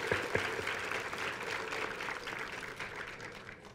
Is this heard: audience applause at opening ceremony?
yes